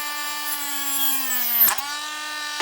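A Dremel rotary tool cuts through wood on a mini table saw, giving a steady high-pitched whine with a strong ringing tone that dips briefly as the bit bites and slows, then recovers, close and loud with no talking.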